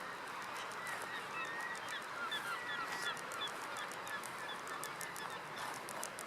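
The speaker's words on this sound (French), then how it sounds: "Il y a beaucoup de goélands." Gulls calling over the beach at Forestville at low tide, a steady chorus of overlapping cries and honking squawks heard at a distance across continuous wind and surf noise.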